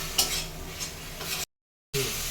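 Chopped tomato sizzles and fries in a pan with steady hissing and a few scraping stirs, close and alone, broken by a brief silent gap before the sizzle resumes.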